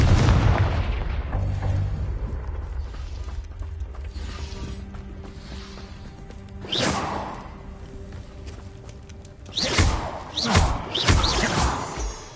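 A Confringo blasting spell goes off in Hogwarts Legacy, amid whirring and clanking mechanical noise. Two booming explosive bursts land a few seconds apart.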